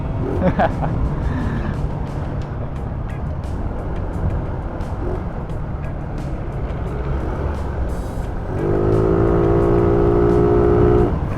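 A Yamaha Mio scooter with a reworked clutch climbs a steep road, its engine drone rising into a louder, higher whine near the end, with a voice speaking over it.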